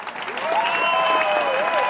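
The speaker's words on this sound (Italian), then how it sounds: "se vogliamo non farli andare, applaudiamone ancora" A jazz concert audience applauds a trio at the Chiavari in Jazz 2023 festival, a dense, sustained wash of clapping with a tonal sound gliding above it.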